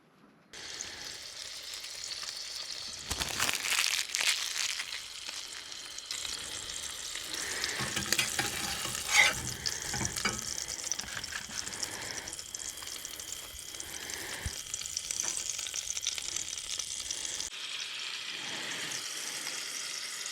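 A cheeseburger patty fries in a skillet at an outdoor campsite, a continuous close crackling sizzle that runs throughout with occasional utensil clanks and shifts in intensity.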